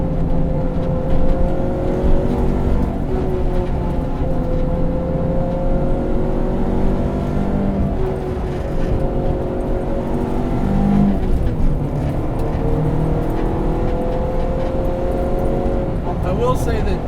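A Honda Civic EG hatchback with a swapped K24 engine drives steadily, its engine note a continuous close drone with shifting harmonic lines as revs rise and fall, a grabby clutch noted, and a voice speaking over it.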